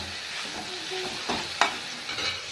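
Broad beans (chikkudukaya) frying in a pan, a steady faint sizzle with a few soft stirring scrapes and one brief sharp clink near the middle, no voices.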